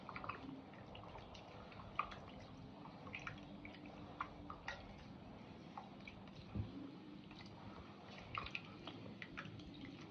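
Fermented millet porridge (koozh) is stirred by hand with water and salt, giving soft wet squelches, drips and splashy sloshing at close range, repeating irregularly in a quiet home kitchen.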